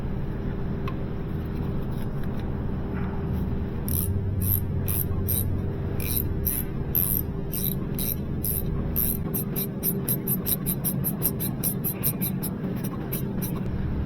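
A ratchet cranks a 15 mm bolt while replacing the hybrid starter generator belt on a Kia Niro, giving a run of rapid, close, crisp clicks that speed up toward the end over a low background hum.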